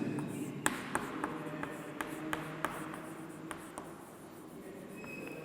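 A teacher writes on a board during a class 9 physics lecture on motion, giving a series of sharp taps and soft scratching strokes spaced about every half second over a quiet room hum, with no talking.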